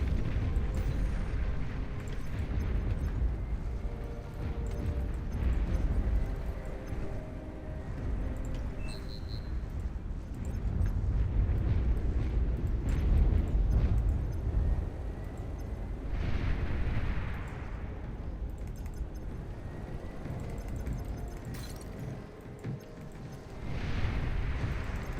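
A commander unit is destroyed in the Beyond All Reason strategy game, a sustained deep rumbling explosion with layered booms rolling on and fading over a long stretch.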